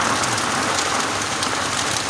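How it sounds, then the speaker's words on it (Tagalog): Heavy rain pours down in a steady, dense roar that fills the air from near to far, loud and continuous with no voices. "napakalakas po ng ulan"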